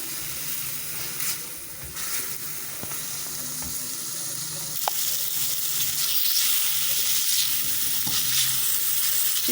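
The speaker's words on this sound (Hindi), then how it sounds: "चिकन को बिल्कुल लो फ्लेम पे मैं कुक करूँगी" Chicken cooking in a pan over a low flame gives a steady, fairly loud sizzle and hiss throughout, growing slightly stronger toward the end, with a few faint clicks and no speech.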